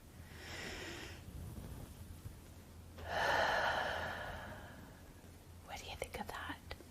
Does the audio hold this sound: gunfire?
no